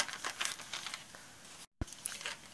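Paper from a magazine cut-out butterfly being ripped apart by hand, a series of close, quiet crinkling tears with a brief pause near the end.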